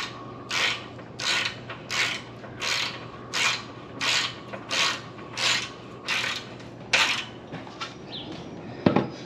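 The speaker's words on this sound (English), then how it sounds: "now let's go ahead and put back the bolts" A ratchet wrench tightens bolts back onto a kayak trailer frame, giving about a dozen evenly spaced bursts of rapid metallic clicking, each about half a second long, close and clear, with a clank at the end.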